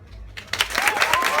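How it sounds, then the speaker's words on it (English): An audience bursts into applause after a live performance of spoken and musical pieces, with clapping rising sharply after a quiet opening and staying thick and lively to the end. "Give everybody applause, everybody"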